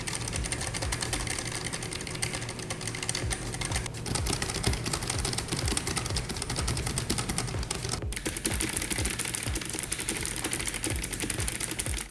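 A Keychron K1/K5 low-profile wireless mechanical keyboard with clicky blue switches is typed on fast and without a break, giving a dense, steady, close rattle of sharp clicks with no voice.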